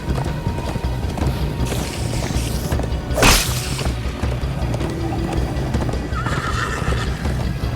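A horse gallops with rapid hoofbeats while a loud whinny rises partway through, set against a busy, rumbling Minecraft: Story Mode game soundscape.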